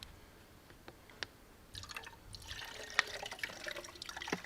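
Antifreeze from the tank of a car bought at a salvage auction trickles and drips onto the ground, faint and close, the splashing growing steadier partway through.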